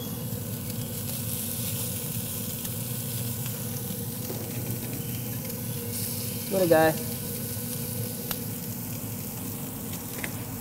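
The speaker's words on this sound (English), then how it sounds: "Great sizzle." Steady, loud sizzling of salmon burgers frying on a hot oiled griddle runs throughout, with a brief spoken remark and a small scrape partway through.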